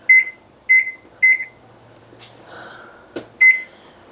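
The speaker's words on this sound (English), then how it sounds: "Now the oven is set for 400 degrees." An oven control panel beeps as it is set to 400 degrees: four short electronic beeps, three evenly spaced then a fourth after a pause, with faint button clicks and handling noise between.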